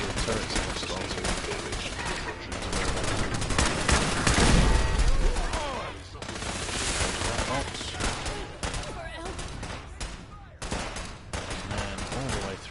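Hostile turrets firing in a game battle: sustained rapid gunfire that builds to a heavy peak, then continues in dense bursts, with a voice talking over parts of it.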